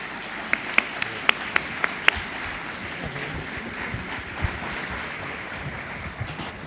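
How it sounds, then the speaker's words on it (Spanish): Audience at an economics congress applauds three panelists after a session on public security and drug trafficking. Several sharp, close claps ring out early, then a softer, diffuse clapping continues beneath low room noise. "brindar un aplauso a los 3 panelistas"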